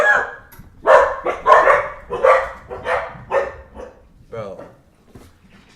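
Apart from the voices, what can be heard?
dogs barking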